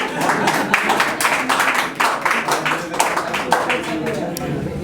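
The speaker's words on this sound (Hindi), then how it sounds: "तालियां बजा लो" An audience claps at a live poetry performance, a run of fairly loud, uneven claps mixed with crowd noise, with a voice speaking over them.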